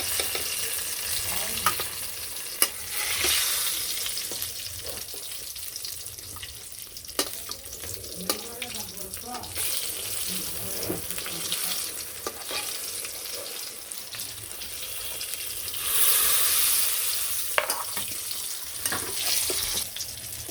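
Eggplant slices frying in hot oil in a home kitchen, a steady sizzle with faint stirring and clatter running throughout, no talking.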